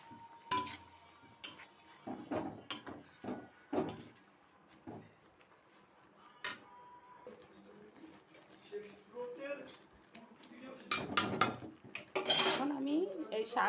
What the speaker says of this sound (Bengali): এইভাবে আমি শাকগুলো অল্প অল্প করে দিয়ে দেবো আর নাড়িয়ে নেব।